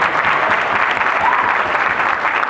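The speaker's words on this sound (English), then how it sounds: "Applaud all these folks." Dense, continuous applause from a crowd at a union rally, loud and even throughout with no pauses or voices.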